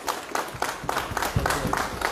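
An audience at a BJP political gathering in Surankote claps in short, rhythmic bursts to welcome a senior leader. The applause is moderately loud and close, with no talk over it.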